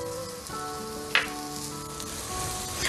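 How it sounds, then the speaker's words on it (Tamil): Chopped green chillies sizzling in a pan of fried onions, a steady hiss with a brief louder spatter as they hit the hot oil. "இப்போ நான் இதில் வந்து வெட்டி வச்ச பச்சை மிளகாயை கொட்டிடலாம்"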